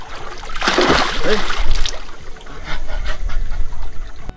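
Water splashes in an outdoor infinity swimming pool at a Konkan resort in Ratnagiri as someone moves through it, with churning and trickling up close, then lighter lapping as it settles.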